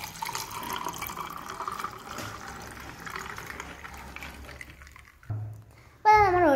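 Spicy lemon juice drink poured from a container into a glass over ice, a steady liquid trickle for several seconds, then brief clinks and a short rise in sound at the end; no talking.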